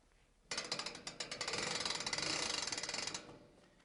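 Winch on a Real Tuff hoof trimming chute ratcheting steadily, a quick run of sharp metallic clicks that starts abruptly and speeds into a continuous rattle before stopping, close and clear with no talk.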